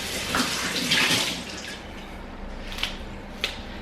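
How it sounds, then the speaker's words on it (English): Water poured into a pot for boiling chicken, a splashing, gurgling pour that is loudest for the first second and a half, then settles into quieter trickles with a few sharp drips, and no talking. "for right now, I'm showing you throw some more water"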